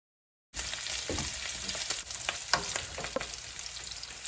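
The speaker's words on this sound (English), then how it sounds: "now that our sausage is nice and browned in there" Sausage browning in a hot frying pan: a steady, close, crackling sizzle with occasional louder pops and stirring scrapes, continuous once it starts.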